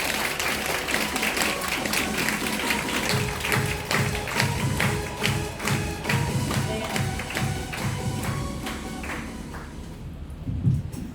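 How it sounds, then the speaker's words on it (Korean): An audience claps for a skincare and aroma lecturer taking the stage at a cosmetics seminar, a dense, steady burst of applause lasting throughout with rhythmic accents, fairly loud and without speech over it. "여러분 모실 때 환영의 박수 부탁드립니다"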